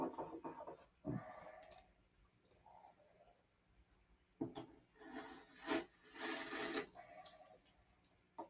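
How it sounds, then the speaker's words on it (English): Hand sanding of a plastic P-47 model, a soft scratchy rubbing that comes in short bursts and a longer stretch of strokes near the end. Quiet and close. "all I do is sand"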